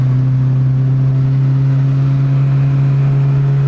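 A car running on E85 fuel pulls under a brief acceleration, its engine holding a strong, steady low drone with a continuous tone throughout, loud and close, with no voices.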